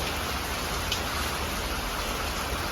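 Steady, dense heavy rain falls continuously, a broadband hiss with no gaps and no voices.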